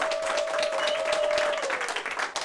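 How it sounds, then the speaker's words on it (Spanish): Dense crowd applause fills a concert venue in Puerto Rico, steady and loud throughout with a faint sustained tone running underneath, no voices standing out. "un aplauso para papi"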